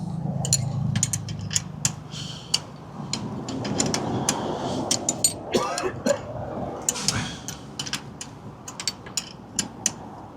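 An old open-end wrench loosens a tight nylock nut while installing a urethane jet foot, giving a run of sharp metallic clicks and ticks with some grinding, close up, and a cough now and then.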